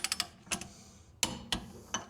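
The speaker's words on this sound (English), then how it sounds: "we're gonna get a smaller torque wrench and we're gonna torque it to 50 foot-pounds this time" A torque wrench tightening a trailer wheel bearing nut to 50 foot-pounds gives a few close, crisp ratcheting clicks in short irregular bursts, fairly quiet, with no talking.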